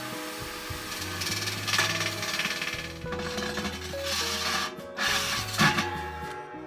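Steady abrasive grinding and rasping from a Dremel sanding wheel smoothing a cut hole in a metal brew pot, close by and continuous, with slight shifts in pitch as it works.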